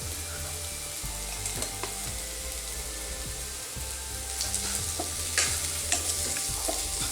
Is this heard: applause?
no